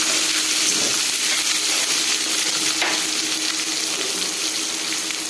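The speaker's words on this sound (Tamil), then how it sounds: "பூண்டு, ஆனியன், இஞ்சி எல்லாத்தையுமே, தக்காளி பழமும் அதோடு போட்டுக்கலாம். இப்போ நல்லா வதக்கிக்கலாம்." Garlic, onion, ginger and tomato sauté in a hot pan for mint chutney, giving a loud, steady, hissing sizzle that continues unbroken with no talking.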